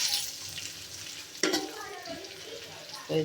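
Whole spices, bay leaves and cardamom among them, sizzle in hot oil in a pot for a home-cooked beef curry, a steady close fry with a sharp stir or clatter around the middle and again at the end.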